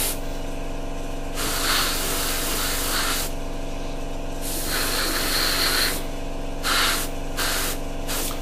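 An airbrush sprays Citadel paint onto a Tamiya 1/48 P-47D or P-51D model kit in several loud, close hissing bursts, separated by short pauses with a low mechanical hum underneath.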